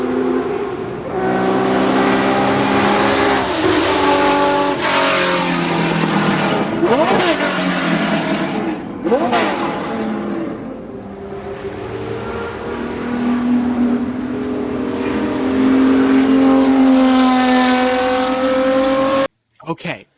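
Porsche 917 race car engine revving loudly and continuously, its pitch rising and falling through repeated revs and shifts, with talk over parts of it and a brief drop near the end.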